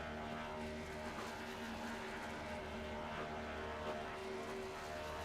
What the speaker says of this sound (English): Yeah, he's full throttle right now. He's gonna blow that engine.